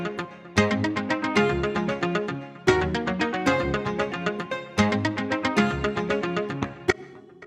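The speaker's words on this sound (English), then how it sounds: "So in the chorus, there are these guitars." Several acoustic guitars strum and pick together in a bright, rhythmic soca chorus pattern with regular accented chords.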